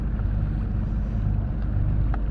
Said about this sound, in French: on fait toujours route au moteur